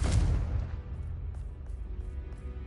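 A Confringo blasting spell bursts in a sharp, booming explosion in Hogwarts Legacy, hitting hard at the start, then rumbling and fading over the next couple of seconds with faint crackles trailing behind.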